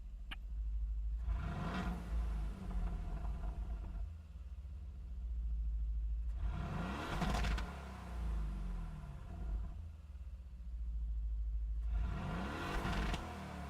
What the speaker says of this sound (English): this V8 engine could be one of the most common V8 engines I hear these days